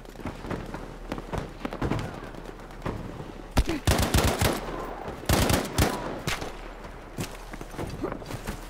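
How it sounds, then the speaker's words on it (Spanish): Gunfire in the Battlefield V PC open beta, bursts of automatic weapon fire and sharp cracks, with a dense cluster of loud shots in the middle, over quieter background battle noise. "Este le está disparando a alguien"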